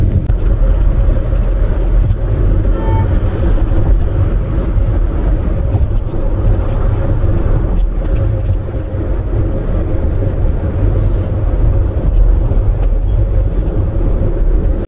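Steady broadband road noise from inside a car on a long daytime drive, a constant low rumble and tire hiss with no talking, loud and unbroken throughout.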